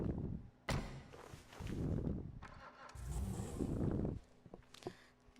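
The Jester car in a video game starts up with a sharp cranking burst, then its engine catches and revs in a few rising surges before settling into a lower rumble.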